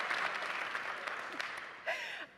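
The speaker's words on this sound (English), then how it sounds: "now we just need a round of applause for Kitty as well" Audience applause fills a conference panel hall at a Bitcoin event, a steady wash of clapping that swells briefly again near the end before tapering off.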